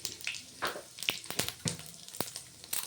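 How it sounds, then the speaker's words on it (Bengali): Dried red chillies and whole cumin seeds dropped into hot oil left from frying fish, giving a soft crackling sizzle with scattered sharp pops and spits, close but fairly quiet, no voices. "সেই তেলের মধ্যেই দিয়ে দেব 2 শুকনো লঙ্কা ফোড়ন আর একটু গোটা জিরে"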